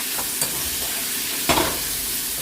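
Onions frying in a pan with a little salt added, with a continuous close sizzle and two quick scraping stirs of a spatula, the second one louder, and no speech.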